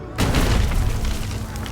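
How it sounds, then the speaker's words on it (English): A bombard, a large medieval stone-throwing gun built to hurl big projectiles over and through castle walls, fires in a Hundred Years War setting: one heavy, close boom that fills the low end and rolls on as a long rumbling tail. "This is a large stone-throwing gun for moving big projectiles like this up and over and through castle walls."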